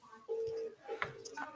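A phone being dialed: a few short electronic keypad tones in quick succession, close and fairly quiet, heard alone.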